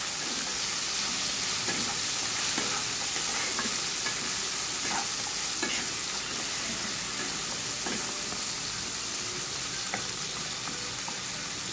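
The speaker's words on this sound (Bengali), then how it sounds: "বিচিটাকে একটু ভেজে নিতে হবে।" Jackfruit seeds fry with a little salt in a pan, giving a steady hiss of sizzling oil, while a utensil stirs them with light intermittent scraping clicks throughout.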